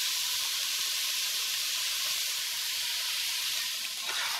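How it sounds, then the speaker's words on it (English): Chopped giblets sizzle as they saute in olive oil and butter in a pan for gluten-free Thanksgiving stuffing, a steady close hiss and crackle of frying, with no talking. "So we're sauteing in our olive oil and butter. Now we're going to add our giblets."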